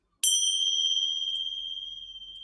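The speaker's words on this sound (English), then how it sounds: "So we will start with the bell." A single bell struck to open a yoga session rings out with one clear, bright strike, then a pure sustained tone that slowly fades, alone in a quiet room.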